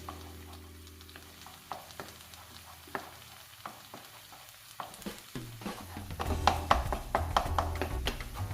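Chicken filling sizzles in a pan over a medium flame while egg yolk is stirred in, with spoon scrapes and taps at an uneven rhythm under a soft hiss that grows louder and busier toward the end.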